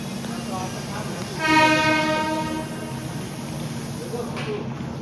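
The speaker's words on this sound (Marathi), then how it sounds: "तुम्ही बघू शकता येते आपली ट्रेन" A local train at a station sounds a long, steady horn blast partway through, over a low rumbling background of the railway platform, with people's voices faintly mixed in.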